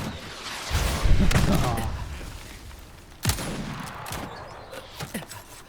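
Handcannon fire in Resident Evil 4: two heavy, loud gunshots roughly two seconds apart, each with a booming tail, followed by smaller impact noises.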